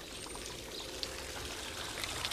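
Water pours steadily in a water clock being built for Felixstowe Town, a faint continuous trickling stream with a few soft splashy accents and no voices.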